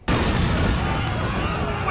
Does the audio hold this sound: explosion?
yes